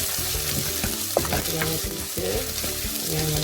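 Onions and fennel seeds fry in a pan with a loud, continuous sizzle, while intermittent scraping strokes of a stirring utensil break through the crackle.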